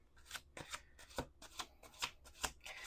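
Tarot cards are shuffled in quick repeated riffles, about a dozen crisp bursts at an uneven rhythm, close and quiet.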